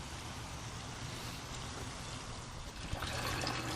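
Water drains out of a 4-inch pipe into a sump pit, a steady soft trickle and splash that holds throughout and grows slightly busier near the end, faint with no talking.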